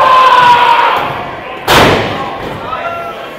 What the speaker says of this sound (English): Kellum gets a face full of that top turnbuckle.